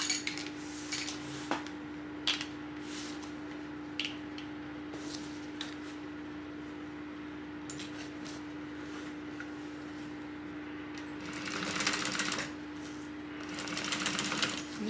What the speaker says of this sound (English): we are going to top stitch.